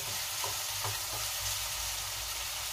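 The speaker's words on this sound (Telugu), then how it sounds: "అల్లం వెల్లుల్లి పేస్ట్ 1 స్పూన్ అయితే వేసుకొని పచ్చివాసన పోయే వరకు అయితే వేసుకుందాము." Ginger garlic paste fries with onions in a pan for a gongura mutton curry, producing a continuous close sizzle with a few soft stirring knocks, and no voices.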